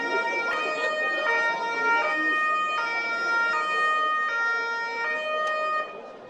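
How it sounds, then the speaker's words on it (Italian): Emergency sirens from police and ambulance vehicles wail continuously in a street after a fight, a steady repeating two-tone pattern that stays loud and near throughout before easing slightly at the end. "Il silenzio dopo la rissa è stato squarciato dalle sirene della polizia e delle ambulanze del SUAM."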